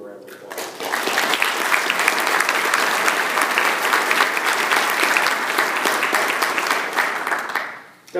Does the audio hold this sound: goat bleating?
no